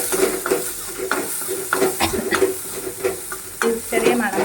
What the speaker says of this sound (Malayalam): നമ്മൾ ചതച്ച് വെച്ചിരുന്ന ഇഞ്ചി, നമ്മുടെ ചെറിയ ഉള്ളി, അതുപോലെ തന്നെ വറ്റൽമുളക് ചേർത്തിട്ട് നന്നായിട്ട് ഇളക്കാം